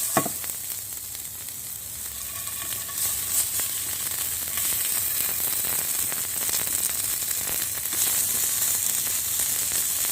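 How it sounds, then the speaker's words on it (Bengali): Semolina and vegetable snacks shallow-frying in hot oil give a steady, close sizzle with faint crackles and occasional stirring clatter, and no talking. "এই তেলের মধ্যে আমি নাস্তাগুলিকে এপিটোপিট শ্যালো ফ্রাই করে নেব"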